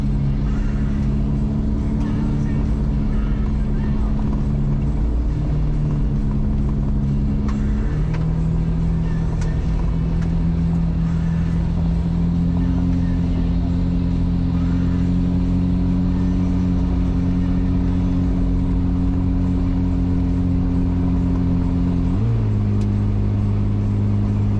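4x4 vehicle driving into a day-use area in Mapleton National Park, a state forest: a steady, loud engine drone with low rumble throughout, its pitch shifting with gear changes, no talk.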